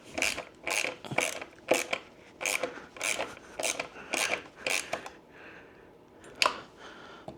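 Nuts being snugged onto studs during assembly of a Seemoon SM4 electric dirt bike, heard as a run of about ten quick, close rasping ratchet strokes in bursts, then a pause and one last stroke, with no talk.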